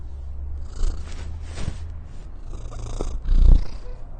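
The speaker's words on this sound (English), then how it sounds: "we asked a local house cat for her opinion" A house cat purrs steadily and close up, a low rhythmic rumble that swells with each breath and grows louder near the end.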